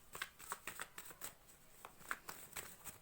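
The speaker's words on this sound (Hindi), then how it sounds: "अभी जो मैं कार्ड्स निकालूंगी, मैं 3 कार्ड्स निकालूंगी" Tarot cards shuffled and drawn in a quiet room, a run of soft papery riffles and slaps repeating irregularly, close and fairly faint with no talking.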